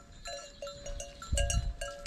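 Sheep and lambs bleat on a village farm in Turkey, with several short, close calls in an uneven rhythm over low rustling and handling noise.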